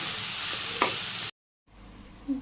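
Vegetables sizzle and fry in a hot pan, a loud, dense hiss with one brief stirring scrape, then a sudden cut to silence and a softer, quieter sizzle afterward.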